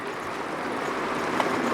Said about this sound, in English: A couple more cars coming through here, so watch out